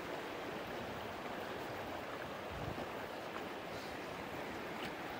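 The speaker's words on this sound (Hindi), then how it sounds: "पानी चल रहा" Water in a village stream runs as a steady broadband rush, fairly loud and unbroken throughout, with no voices.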